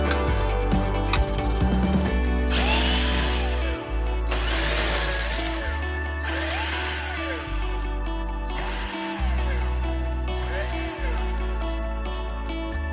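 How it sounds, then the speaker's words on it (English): A power screwdriver backs screws out of an HP LaserJet P2035 printer: several close, separate bursts of motor whine that rise and fall in pitch, with short pauses between them. "Next, remove these 4 screws."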